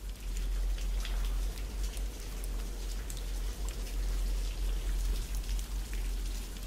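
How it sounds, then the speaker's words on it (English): Steady rain in a Fallout video game patters continuously on a surface, a dense hiss with scattered drops, heard alone with no voices. "Oh, it's raining."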